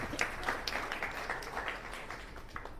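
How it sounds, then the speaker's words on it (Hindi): An audience in a lecture hall bursting into applause, a fairly faint crowd of clapping hands with scattered sharper claps that taper off over a few seconds. "ताली बजाओ।"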